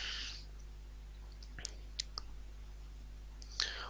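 A computer mouse gives a few sharp, quiet clicks spread out over a low steady hum, with soft breathy sounds at the start and end.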